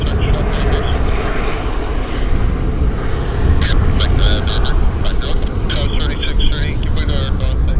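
A Boeing airliner passes at Vancouver International Airport, its engine roar steady and fairly loud throughout, with a person talking over it.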